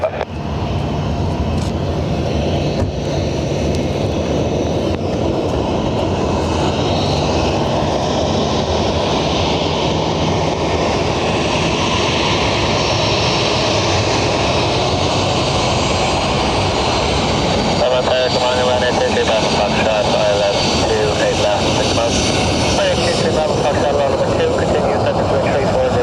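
A Dubai Air Wing Boeing 747 freighter lands at Dublin airport, its jet engines giving a steady, loud, broad roar that holds throughout with no break, while a voice on the radio comes and goes over it.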